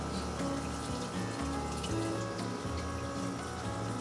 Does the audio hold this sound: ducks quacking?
no